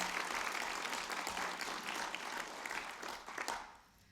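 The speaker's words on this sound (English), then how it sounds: "we'll give you a big round of applause" A room of people applauds steadily at an annual general meeting, dense clapping that holds for several seconds and then tapers off toward the end.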